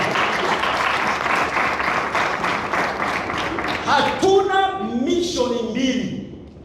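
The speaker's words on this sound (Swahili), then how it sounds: "Si makofi makubwa jameni." A church audience at an evening gospel meeting applauds with loud, steady clapping that fills the space, while a preacher's voice rises over the tail end as the applause continues.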